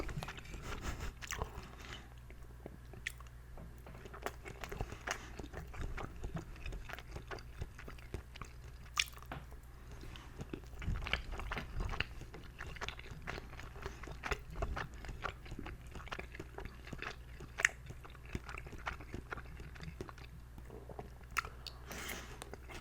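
Close, quiet mouth sounds of someone eating chicken cooked in butter with caramelized onions over rice, ASMR style: soft irregular bites, chewing and occasional crunches and utensil scrapes, with no talking.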